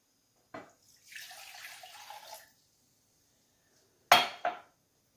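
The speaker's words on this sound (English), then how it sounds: "So you need 1½ cups of vinegar," Vinegar pours into a bowl in a short liquid stream lasting over a second, framed by a soft knock before it and two sharper clinks of dishware afterward, close and quiet with no talk.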